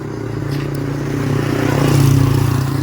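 A Yamaha RX King motorcycle idles nearby, a steady two-stroke engine drone with a slight swell in loudness midway and no talk over it.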